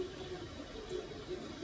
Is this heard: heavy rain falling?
no